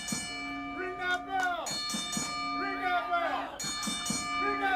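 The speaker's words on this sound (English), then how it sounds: "Hey, Clay, ring that bell." A wrestling ring bell rung repeatedly at a wrestling show, clanging tones ringing out in quick succession while people talk over it.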